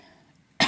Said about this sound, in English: Again, the coughing.